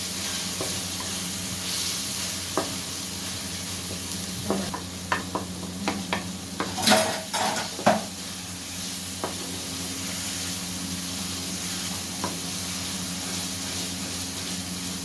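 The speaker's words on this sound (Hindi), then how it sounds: "तो जीरा और धनिया शामिल करने के बाद हम थोड़ी देर इसको भून लेंगे।" Spinach with cumin and coriander sizzles in a hot pan, a steady frying hiss broken by a burst of scraping stir strokes near the middle, with a few sharper clicks of the spoon against the pan.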